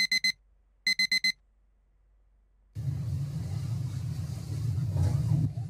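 An alarm clock rings in two short bursts of rapid high electronic beeps, close and clear, separated by silence, and then a low steady rumble of room or traffic noise takes over.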